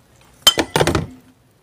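Metal clutch plate from a Honda CX500 motorcycle dropping, a single sharp clink followed by a quick cluster of ringing bounces, close and clear, then silence.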